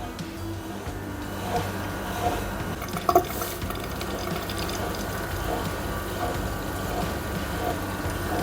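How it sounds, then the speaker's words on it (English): An Electrolux dishwasher with an overfilling fault fills with water: a steady trickling, gurgling wash of water runs under faint mechanical hum, with a couple of brief clicks midway. "now water taken to the machine through the air guide"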